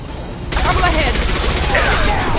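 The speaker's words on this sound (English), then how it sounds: "Under heavy fire!" Heavy gunfire from Mass Effect Legendary Edition starts suddenly after a brief lull and then keeps up as a loud, steady barrage, with voices faintly mixed in.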